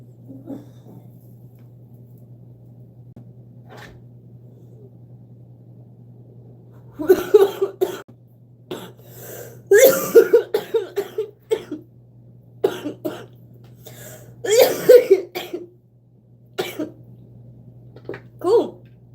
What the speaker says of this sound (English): I'm honestly coughing a lot less than I thought I was going to.